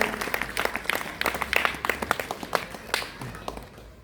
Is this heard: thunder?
no